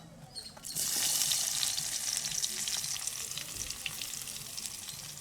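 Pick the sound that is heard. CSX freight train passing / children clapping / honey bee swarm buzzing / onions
onions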